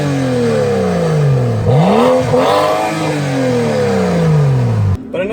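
A 2011 BMW 335i xDrive M Sport exhaust revs up and down loudly at close range, rising and falling through several throttle blips before cutting off abruptly near the end.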